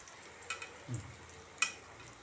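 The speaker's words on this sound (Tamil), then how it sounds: "நல்லா கொஞ்சம் ஃப்ரை ஆகட்டும் லோ ஃப்ளேம்லேயே வச்சு பண்ணலாம்" Brinjal slices frying on a low flame give a soft, faint sizzle, with a few light clinks and a short scrape in the pan.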